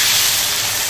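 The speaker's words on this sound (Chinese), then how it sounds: "浇水" Water poured into a hot wok over pig trotters, ginger and sauces, giving a loud, steady, broadband steaming hiss that fills the short moment without a break.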